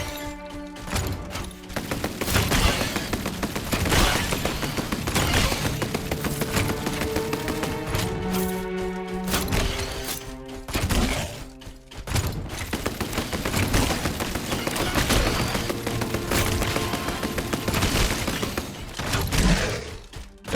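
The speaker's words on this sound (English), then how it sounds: "Let's get the machine gun instead." Rapid machine gun bursts in the video game REMEDIUM: Sentinels, loud and sustained with dense rattling fire, short pauses and booming impacts layered among the shots.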